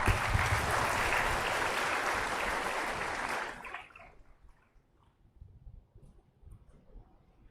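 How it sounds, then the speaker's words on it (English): An audience at a university orientation programme in an auditorium claps in a dense, sustained round of applause for about three and a half seconds, then it quickly fades to scattered claps and quiet room noise. "So please welcome him with a round of applause"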